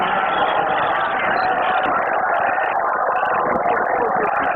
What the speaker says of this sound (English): Crowd filing out now.